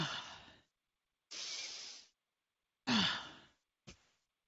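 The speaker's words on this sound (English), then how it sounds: "So mine, I'm just going to demonstrate my breathing changed to" Four demonstrated breaths on a walk, close and breathy, each a sigh-like exhale or inhale of about half a second to a second, spaced by short silences, the last one brief and clipped.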